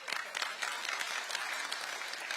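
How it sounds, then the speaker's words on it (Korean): Audience applause at a political town-hall style public briefing event in Iksan, North Jeolla, with steady, dense clapping filling the whole stretch, fairly loud and unbroken. "근데 익산에서, 전북에서 앞으로 살 것 같아서 박수를 치시는 것까지는 괜찮은데"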